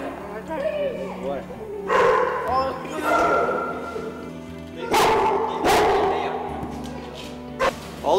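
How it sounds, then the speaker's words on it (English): Several dogs bark and yip in an animal pound lined with cages, with sharp repeated bursts, some near and loud, over a constant background din, while people talk throughout. "We're in the pound where we keep all the dogs."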